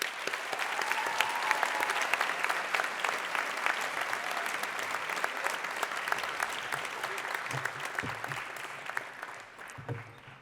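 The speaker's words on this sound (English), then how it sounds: "So another round of applause." An audience at a 2015 American University of Paris commencement ceremony claps steadily for about ten seconds, a dense, sustained patter of many hands with a few low thumps near the end.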